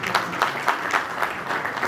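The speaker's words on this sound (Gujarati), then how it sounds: "તો એમને જોરદાર તાળીઓથી વધારે" Audience at a family community gathering in Chotila breaks into steady, lively applause, with many hands clapping together in a dense, rhythmic wash that swells in regular pulses across the whole moment.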